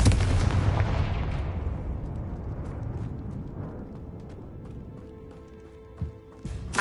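A Confringo fire spell bursts in Hogwarts Legacy with a loud explosive boom that decays into a long rumbling tail, followed by small faint pops and clicks near the end.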